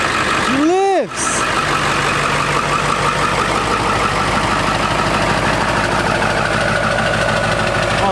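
A Cummins 12V diesel in a 450-plus-horsepower five-speed truck, fired up after a cold spell, idling in a steady, loud, gravelly rumble that holds unbroken after a brief whooshing start transient.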